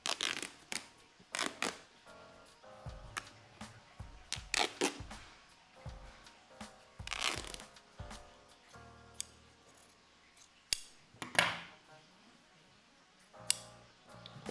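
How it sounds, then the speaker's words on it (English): Scissors snipping open the seam of a Psycho Bunny polo shirt, a string of short, close, crisp cuts and clicks with small pauses between, alone without talk. "I'm actually gonna cut open this detail here so you guys can see what I'm talking about for the construction of the seam."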